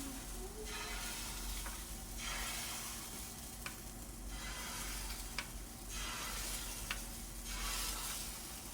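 Food fries in a hot pan, a steady soft sizzle with occasional stirring scrapes and small clicks, close but fairly quiet, with no talking.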